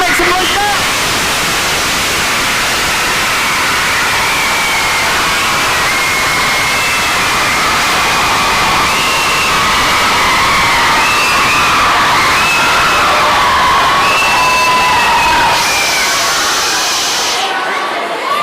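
A debate audience at a UK youth debate on lowering the voting age to 16 cheers, shouts and makes loud sustained noise, a dense continuous crowd roar that stays at full level for the whole stretch before cutting off abruptly at the end.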